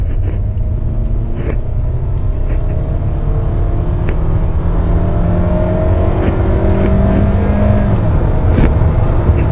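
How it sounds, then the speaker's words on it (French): Hyundai Sonata Sport Tech engine revving under acceleration with rising tones as the gearbox shifts up, steady loud rumble from inside the car. "elle monte bien dans les tours, mais là j'ai senti la boîte un peu lente, elle a hésité un peu avant de passer"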